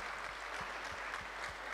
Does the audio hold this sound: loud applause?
yes